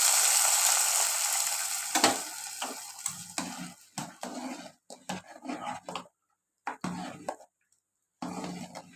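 Loud sizzling of cashews frying in hot ghee, with stirring clinks and scrapes that break into pauses and near-silence toward the end.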